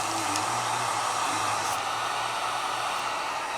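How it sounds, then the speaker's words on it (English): A heat gun runs steadily while shrinking heat shrink tubing during a car audio installation, giving a continuous close airy roar with no talk over it. "prime the heat gun"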